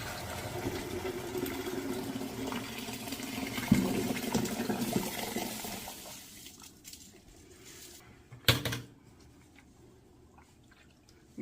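Dirty water from cleaning corn cob tumbler media poured through an old pillowcase strainer into a bucket, a soft continuous splashing trickle that thins out into a few drips and a brief slosh.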